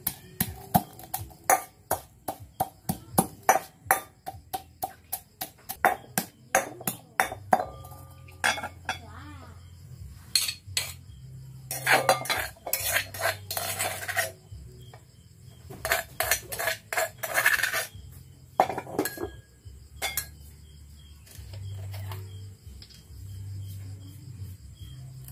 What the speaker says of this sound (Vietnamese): Giã nát.